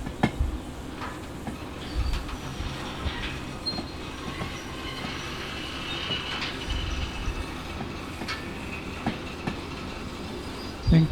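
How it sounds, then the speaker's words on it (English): A train rolls along the rails while shunting at a steel mill in the Derail Valley video game, a steady quiet rumble with clickety-clack wheel beats and occasional squeals. "Riding the train."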